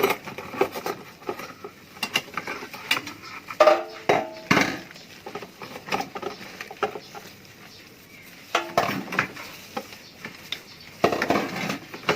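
Clinical equipment is scrubbed with a brush during infection-prevention cleaning, producing bursts of scratchy bristle strokes and clinks of hard items, close and irregular, with quiet pauses between.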